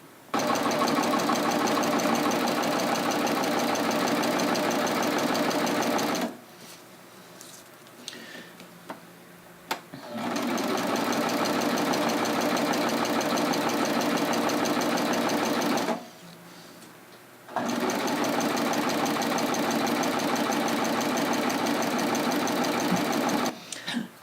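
A sewing machine stitching a rolled edge on tulle, running in three long steady bursts of fast, even mechanical chatter up close, broken by two quiet pauses with faint handling noises.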